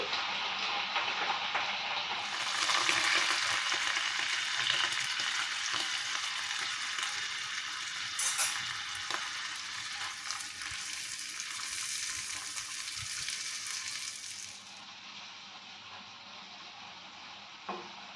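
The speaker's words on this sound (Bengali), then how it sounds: "এবারে গুলে রাখা মশলাটা দিয়ে দিচ্ছি।" Ginger and dissolved spice paste frying and being stirred in a pan for a Bengali prawn curry with yam, a steady close sizzle with scraping stirs, loud throughout and easing after about fifteen seconds.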